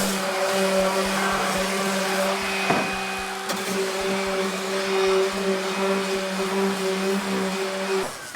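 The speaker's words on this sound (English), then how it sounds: "So next we'll go into the orbital sander. This is a finer grit than the spindle sander." An orbital sander working the edges of a handmade garage-built skateboard deck with fine-grit paper, giving a steady close motor whine with a sustained tonal hum and a brief clunk partway through.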